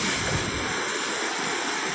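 The flooded Moctezuma river at Tamazunchale, San Luis Potosí, rushing loudly and steadily as a broad, unbroken roar of churning water close by, with no voices.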